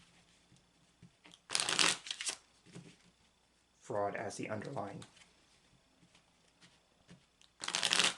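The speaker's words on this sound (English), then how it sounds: "I'm shuffling the cards to see what additional card can come out with" Cards are shuffled in two loud riffling bursts, one early and one at the end, with a person talking in between.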